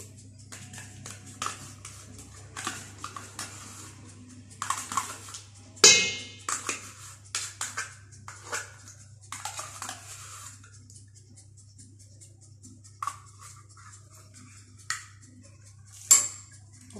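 Cream cheese and sugar are stirred together in a bowl for an easy cream cake. A utensil clinks and taps against the bowl in sparse, light knocks, scattered through a quiet stretch.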